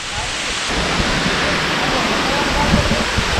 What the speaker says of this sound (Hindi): तो गाइस ये रहा ये झरने का व्यू, बहुत ही खूबसूरत है